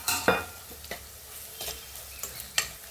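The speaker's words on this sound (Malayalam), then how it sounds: "നമ്മുടെ തോട്ടുള്ളി ഇടുവാണ്." Shallots sizzle in hot oil in a pan while a spoon stirs them, giving a soft, steady fry under several sharp scraping strokes.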